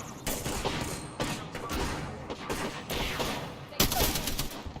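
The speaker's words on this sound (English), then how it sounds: "The enemies are shooting at me." Rapid gunfire bursts in an Apex Legends match, dense repeated volleys of shots rattling loudly and continuously throughout, with sharper cracks standing out near the end.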